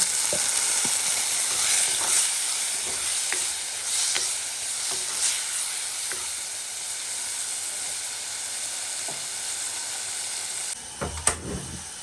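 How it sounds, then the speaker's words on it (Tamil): Onion and garlic sauté in a pan for a Jaffna-style home meal, giving a steady bright sizzle and hiss throughout, with a few faint utensil taps and a short clatter near the end. "வெங்காயம் வெள்ளைப்பூடு வதங்கிடுது"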